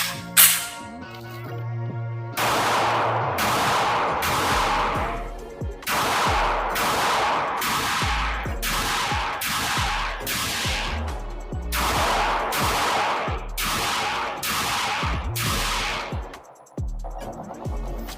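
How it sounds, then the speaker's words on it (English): A Canik TP9 Elite SC pistol fires a long string of sharp, loud shots down range at an outdoor range, a few separate reports and then a steady, evenly paced volley with brief pauses. "let's put some more rounds down range because everybody likes to shoot more"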